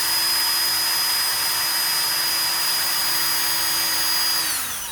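A DeWalt power drill with a straightened bit holder whirs steadily at high speed with a constant tonal whine, then spins down at the end.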